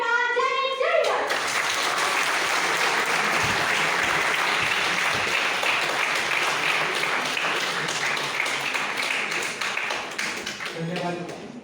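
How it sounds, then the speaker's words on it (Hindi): Sustained applause from an audience at an informative session held by Rovers for World Scout Scarf Day, loud and steady throughout, with faint voices mixed in near the start and end. "इनको तालियों की खुराक देते रहना"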